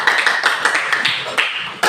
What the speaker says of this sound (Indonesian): Tepuk tangan dong buat Ramadan.